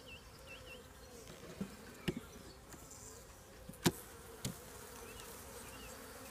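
Honey bee workers hum in a steady, dense drone close up inside a hive with syrup stores, joined by a few light taps and clicks.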